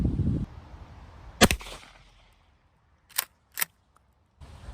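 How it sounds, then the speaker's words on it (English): A 20 gauge shotgun loaded with Rio Royal No. 1 buckshot fires at a 15-yard target outdoors. There is one sharp, loud blast, followed by two quicker, lighter cracks. No one speaks, and quiet background noise sits between the shots. "So I'm gonna take some shots here, and at 15 yards first"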